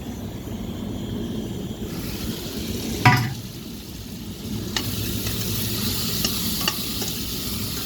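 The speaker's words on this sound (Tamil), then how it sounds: "நல்லா வதங்கிட்டு இப்போ தக்காளி சேர்த்துருக்காங்க" Ridge gourd and tomato sautéing in a pan give a steady low sizzle with stirring, one sharp scrape of a utensil near the middle and a few lighter clinks later, with no voices.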